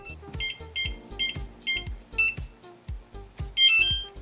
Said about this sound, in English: set our timer for